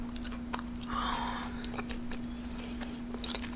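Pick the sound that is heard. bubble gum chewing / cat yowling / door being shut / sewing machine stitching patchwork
bubble gum chewing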